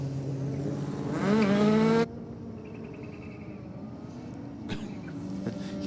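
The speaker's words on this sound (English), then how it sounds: "just giving the rev limiter a bit of a workout in the burnout for the Corolla" A Toyota Corolla engine held hard against the rev limiter during a burnout, a loud buzzing high-rev drone that bounces and cuts off abruptly, followed by quieter distant engine and track noise.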